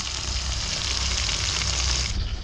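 Food frying in hot oil until golden and crispy gives a steady, loud, close sizzle that holds evenly throughout, then thins out briefly near the end, with no voices.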